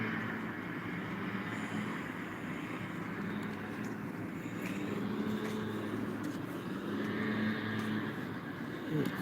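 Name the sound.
airplane landing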